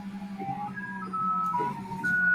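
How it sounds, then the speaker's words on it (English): Ice cream van chime drifting in from outside, a thin tinkling melody of sustained tones over a steady low hum, moderately faint and with no talking. "I wonder if you can hear the ice cream man in the background."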